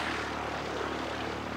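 Steady, loud drone of an aircraft engine with a constant propeller hum, near and unbroken, no talking.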